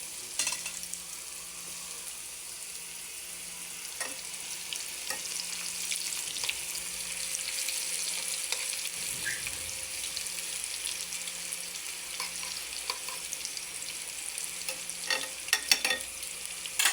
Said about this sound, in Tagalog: Fried eggplant